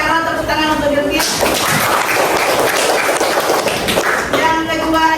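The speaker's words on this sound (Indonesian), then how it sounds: "tepuk tangan untuk Bilqis" A classroom of students bursts into loud, dense clapping for a classmate, with voices cheering, after a teacher's brief speech, then trailing back toward talk.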